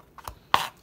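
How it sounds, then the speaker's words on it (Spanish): A knife cuts peeled tomatoes on a board: two quick, close chops, the second sharper and louder than the first. "entonces los cortamos"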